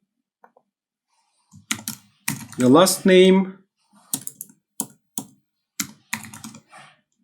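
Keys tapped on a computer keyboard while filling in web form fields: scattered clicks and short bursts of typing spread over several seconds, with someone speaking briefly in the middle.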